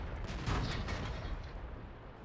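Tank cannon fire from a KV-220 in a video game, heard as a dense, continuous rumble of battle noise with a stronger burst near the start, loud and sustained without clear separate shots.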